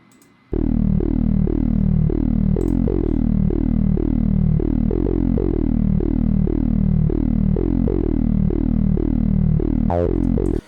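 Detroit-style bass line in a beat, copied from a low piano pattern, playing as loud repeated distorted bass notes in a steady rhythm, alone for about ten seconds before cutting off.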